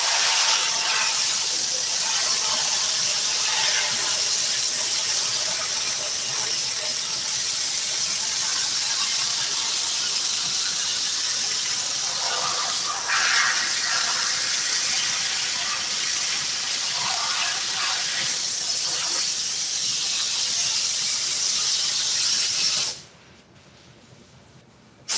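A spray can or spray gun hisses steadily around the edge of a car sunvisor being recovered in an auto interior shop, a continuous close hiss lasting over twenty seconds before cutting off abruptly.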